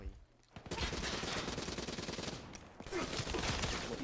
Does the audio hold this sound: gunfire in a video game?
yes